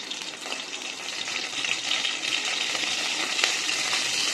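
Mustard seeds, cumin and curry leaves fry in hot oil as a tempering for barley bisi bele bath, giving a steady, close crackling sizzle with a few sharper pops and no talking.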